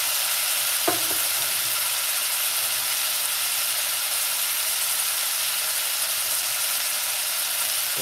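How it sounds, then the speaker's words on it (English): Broccoli frying in a pan makes a loud, steady, close sizzle that hisses without a break, with a brief scrape of stirring near the start and no talking. "I'm gonna cook some broccoli."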